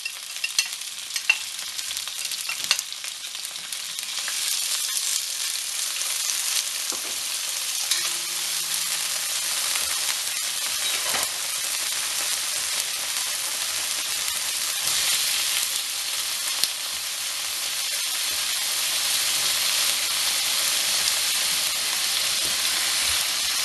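Peppers and onions fry in oil in a cast iron pan, giving a steady, loud broadband sizzle with occasional stirring clatter throughout and no voices.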